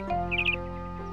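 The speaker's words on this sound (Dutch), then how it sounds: "luistert en hoort een vogel chirpen" In a nijntje cartoon scene, a cartoon bird gives a short burst of bright, high chirps over a soft sustained musical background.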